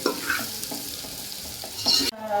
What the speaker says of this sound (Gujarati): કોબીને મિક્સ સરખી કરવાની।